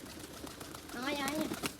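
A trained pigeon gives a brief, soft coo, a short throaty warble rising out of quiet background noise.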